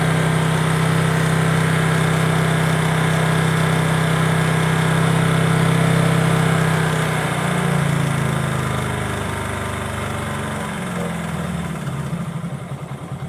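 A small engine hums steadily at high RPM while its carburettor is tuned. The pitch shifts and settles lower partway through, with no talk over it.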